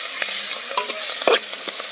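Masala with spring onions sizzles and fries in a pan while a spoon stirs it with soft scraping strokes. The sound is close and steady.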